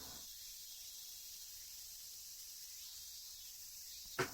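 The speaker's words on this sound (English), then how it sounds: "It's the same exact fucking cicada sound effect in Higurashi." A cicada sound effect from a video game, a continuous high, thin buzzing drone holding at an even, faint level from start to finish, with a brief soft click at the end.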